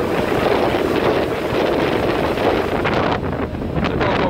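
Heavy wind buffeting the microphone on a ferry crossing the sea from Korčula to Orebić, a steady broadband roar with engine and water rush underneath, constant and close for a few seconds.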